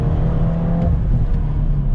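A 2022 Volkswagen Golf R engine revs hard under acceleration, a loud, steady, close-up drone with a tone that rises slightly before settling, filling the whole moment without any talk.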